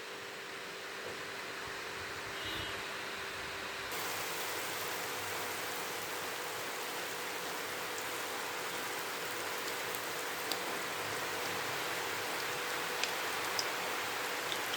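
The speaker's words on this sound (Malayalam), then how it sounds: "എന്നിട്ട് നമുക്കത് എണ്ണയിലേക്ക് ചൂടായ എണ്ണയിലേക്ക് ഇട്ട് കൊടുക്കാം" Bread dipped in batter fries in hot oil, giving a faint, even, continuous hiss and crackle throughout with no talking.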